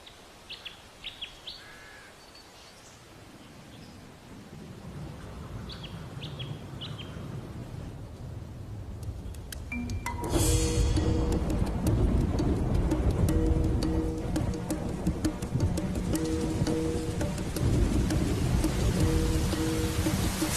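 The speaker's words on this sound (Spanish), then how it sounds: "Se desatan tormentas. Y se suceden los intensos aguaceros." Tropical Australian wet-season thunderstorm: faint bird chirps over a soft hiss give way to a sudden, loud, steady downpour with deep rumbling, no voices.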